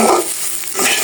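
Rice and vegetables fry in a pan while being stirred, a loud close sizzle with scraping swishes of the spoon, no talk.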